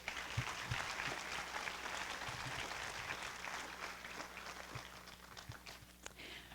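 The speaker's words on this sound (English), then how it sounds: "let's give all of our contestants another round of applause." Steady applause from a pageant audience fills the space, a dense patter of many hands clapping at moderate volume throughout.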